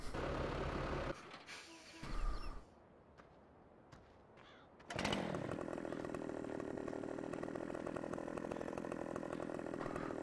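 Husqvarna chainsaw in Farming Simulator 17, a steady buzzing engine drone that cuts out into near silence with a brief burst, then restarts and runs continuously at a loud, even pitch.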